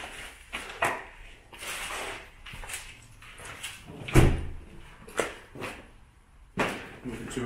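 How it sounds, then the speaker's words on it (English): Big heavy walk-in freezer doors in an abandoned oriental buffet are moved, giving a series of hollow thuds and knocks, with one sharper bang midway and faint speech between them. "Big heavy doors."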